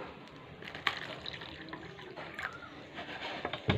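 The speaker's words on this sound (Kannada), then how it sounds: "ಗ್ಲಾಸಿಗೆ ಸ್ವಲ್ಪ ನೀರು ಹಾಕ್ತಾ ಇದ್ದೀನಿ" Water trickles from a container into a drinking glass during a Modicare product demonstration, a soft, faint, continuous liquid splash with small clinks, heard alone in a quiet room.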